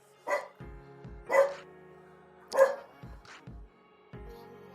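A dog barking indoors, three sharp barks spaced about a second apart over faint background music, moderately loud and close.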